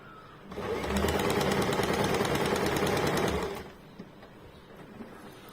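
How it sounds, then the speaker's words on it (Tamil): An electric sewing machine stitching a blouse seam, one continuous rapid mechanical run of about three seconds, close and loud, starting and stopping abruptly in a quiet room. "இப்படி தச்சிட்டு திருப்பணும். அது பாருங்க, நான் தைக்கிறத இந்த அளவு தான்."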